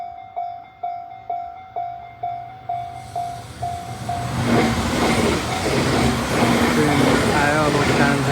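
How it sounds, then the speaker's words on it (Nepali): A train pulls into a station: a repeating chime-like warning tone sounds first, then the loud, rumbling approach of the train builds and holds, with a voice talking over it. "अब आउँछ हेर ट्रेन सट्ट आउँछ क्या एकछिनमा हेर"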